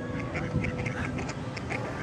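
Several ducks quack in short repeated calls, fairly close, over a low background murmur.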